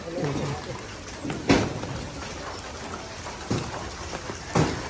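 Rain falls outdoors in a steady broadband hiss, with a few louder splashing bursts spaced through it and voices faintly mixed in.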